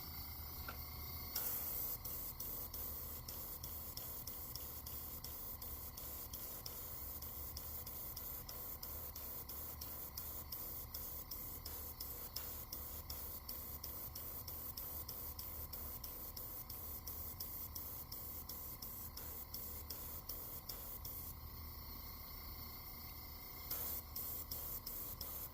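An airbrush spraying paint onto a Livingston fishing lure, a steady close hiss that runs almost continuously for the whole stretch, with a brief pause near the start and another near the end.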